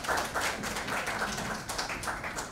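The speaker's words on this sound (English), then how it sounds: "it deserves a huge round of applause from all of us" Applause from an audience at the KASHISH Mumbai International Queer Film Festival, a thinner, uneven patter of hands clapping at moderate distance, fairly quiet and without talk over it.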